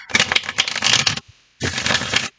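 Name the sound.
tarot cards being shuffled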